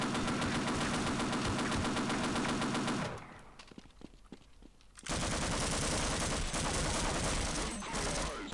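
Dense automatic gunfire and explosions from the Half-Life video game roar loud and continuous, drop to a sparse pause of scattered shots for about two seconds, then surge back into sustained heavy firing.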